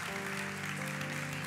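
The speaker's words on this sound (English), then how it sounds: "Let's give this Jesus a great and clap of praise." A church congregation claps in praise, a dense continuous wash of applause over a steady musical drone, heard from a moderate distance without a break.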